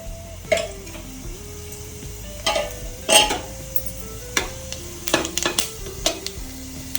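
Soft crackling sizzle of whole spices (cinnamon, cloves, fennel) in hot oil in a pan, with several sharp metallic stirring clinks and scrapes, moderately close, no voices.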